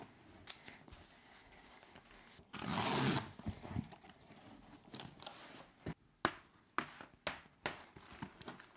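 A package of photo prints is opened by hand: a loud burst of tearing or ripping, then a series of sharp crinkles and snaps of packaging, close and quiet between sounds, with no voices.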